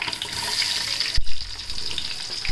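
Whole cinnamon, cloves, cardamom and mace fry in hot oil for a chicken biryani base, making a steady, hissing sizzle with one brief louder splutter partway through.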